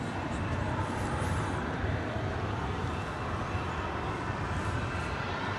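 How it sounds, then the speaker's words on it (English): An American Embraer 175 airliner takes off from runway 18 left at DFW Airport, heard as a steady broadband jet roar at a distance, unchanging and constant throughout. "clear takeoff 18 left, American 2698. It's an Embraer 175."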